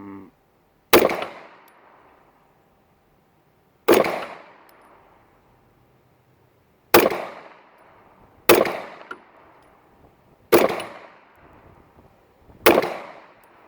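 Six sharp, loud gunshots from a Rock Island Armory Enhanced 1911 pistol in 9mm, fired at an uneven pace with gaps of one to three seconds, each crack followed by a short decaying echo in an outdoor setting.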